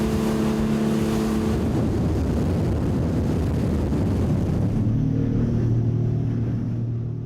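A motor rafting boat on an Altai lake, its engine roaring loud and steady with wind buffeting the microphone, and the engine note shifting lower toward the end.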